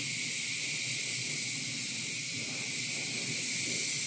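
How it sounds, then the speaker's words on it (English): An airbrush sprays paint in a thin, slow stream onto a quarter-scale custom figure, making a steady, even hiss that is close and continuous throughout, with no talk. "I don't have a whole lot of paint coming out of my airbrush"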